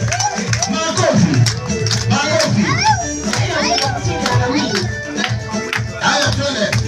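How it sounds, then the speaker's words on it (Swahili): A church congregation claps amid a loud, busy wash of voices and chatter, with sharp hand strikes scattered through dense crowd noise that stays fairly constant throughout. "Makofi."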